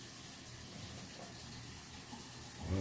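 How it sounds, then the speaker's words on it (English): Water gushing backwards up a drain stack in a clogged plumbing line, a steady, close rushing wash that swells slightly louder at the end. "And the water's coming backwards up this stack."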